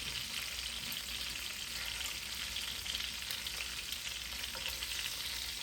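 Pork tenderloin fries in a pan with a steady, dense sizzle that holds at an even level throughout, close and uninterrupted, with no talking.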